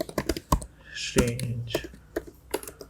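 Keys clatter on a computer keyboard as text is typed into notes, rapid close clicks in irregular bursts, with a brief quiet spoken word partway through.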